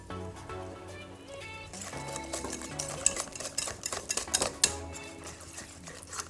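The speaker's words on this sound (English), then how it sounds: "as I whisk, I'm bringing in the flour into the middle of the milk" A whisk beats pancake batter of milk and flour in a bowl, starting as soft swirling stirs and becoming quick, clattering metallic taps against the bowl's sides.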